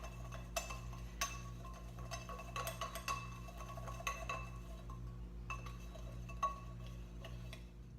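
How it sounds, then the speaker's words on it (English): A whisk works through a powdered sugar glaze for a lemon loaf cake in a bowl, giving quiet, irregular metallic ticks and clinks against the bowl over a low steady hum, with no talking. "And so just whisk it together until it develops a smooth consistency."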